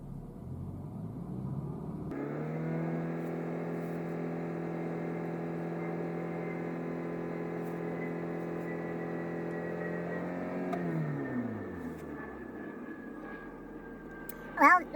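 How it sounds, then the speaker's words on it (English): A BMW B46 engine rises into a steady held rev, its even droning tone sustained for several seconds before dropping back down toward idle, close and fairly loud. "Let's try giving it some revs."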